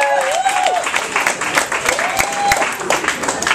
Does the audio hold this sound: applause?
yes